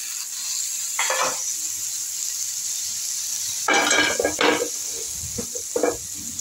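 Green peas tipped into a pan of beaten eggs, with a soft hiss of frying and bursts of stirring and clinking from a spatula against the pan, all near and without talk.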